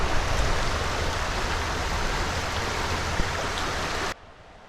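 Steady, dense rush of a creek flowing in the Appalachian hills at sunrise, continuous and close with no voices, cutting off abruptly near the end.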